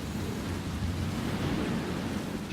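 Steady rain with a low thunder rumble in the video game Resident Evil 2, a dense continuous wash of sound heard alone without any talk.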